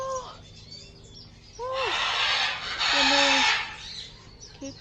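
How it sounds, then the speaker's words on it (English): Birds call in a large aviary at a bird farm, with finches among them: whistled and chirping calls come and go, with bursts of louder, harsher squawking mixed in and a person's brief exclamation. "Wow, look at these birds."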